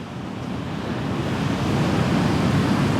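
Ocean waves wash steadily onto a humid beach, a broad continuous surf roar with wind noise that swells slightly louder toward the end, with no voices.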